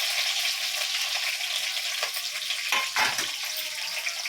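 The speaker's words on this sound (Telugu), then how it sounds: "ఇప్పుడు మనం వేసిన ఐటమ్స్ అన్నీ లైట్ బ్రౌనిష్ అయ్యేంత వరకు ఫ్రై చేసుకోండి." Curry leaves, sliced onions and green chillies fry in hot oil in a pan for prawn dum biryani, giving a steady loud sizzle with a brief stir and clatter partway through.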